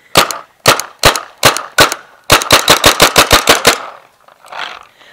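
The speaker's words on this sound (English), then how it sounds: "So, I shoot a little bit through the gun." A Tippmann A5 paintball marker fires loud, close, sharp pops, first as a few spaced single shots and then as a rapid string of about ten, followed by a softer hiss of air.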